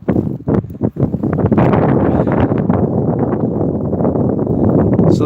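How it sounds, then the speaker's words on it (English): Wind gusting outdoors during a winter storm in upstate New York, a loud, sustained blustery rush buffeting the microphone, with sharper bursts near the start. "So the wind is about 10 miles an hour. It's not too bad right now, but it's gusting to like 15, maybe 20."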